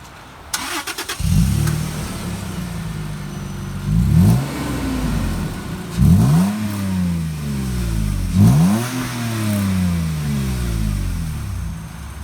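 A 1981 Toyota Land Cruiser FJ43 cranks briefly and fires up, then settles into idle punctuated by four sharp revs that climb and fall back, loud and close with no talking.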